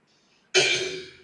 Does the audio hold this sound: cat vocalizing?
no